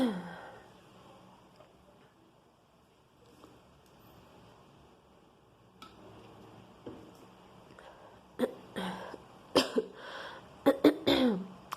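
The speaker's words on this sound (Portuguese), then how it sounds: "tá me dando um pigarro na garganta." A few short, sharp throat-clearing bursts cluster near the end after a long quiet stretch, close and fairly loud, with no talk.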